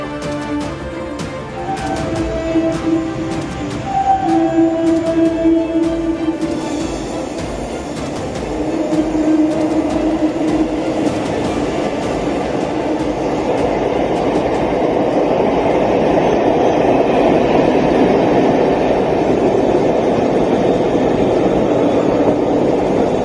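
A train on Chennai's elevated rail line rolls along with a steady loud rumble, wheels squealing and rattling on the rails, growing fuller as it picks up.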